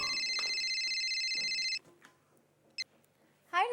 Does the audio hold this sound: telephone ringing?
yes